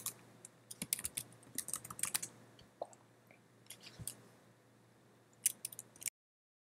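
Someone types on a computer keyboard in a quiet room, irregular bursts of crisp keystrokes with short pauses between them, close and fairly soft.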